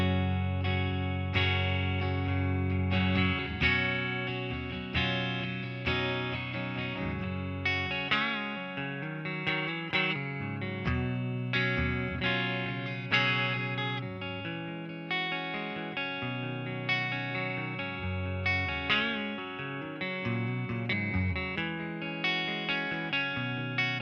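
Clean channel of a Marshall DSL40C guitar amplifier with reverb, gain and volume at half: chords and single notes ring out steadily for about twenty-four seconds with a lingering reverb tail, played alone without talk.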